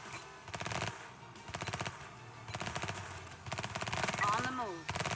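Machine gun fire in the video game Emergency: several rapid rattling bursts separated by short pauses, loud and close, with a brief voice heard near the end.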